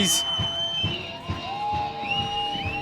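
Crowd cheering and shouting at a peewee football game after a long touchdown run, a steady roar of voices with rhythmic bursts, a commentator talking over it.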